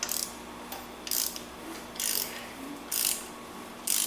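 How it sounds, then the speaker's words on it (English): The engine of a 1973 Corvette Stingray is turned over slowly, likely by hand, producing loud, close mechanical ratcheting clicks in bursts about once a second. "So as of right now, it's turning over."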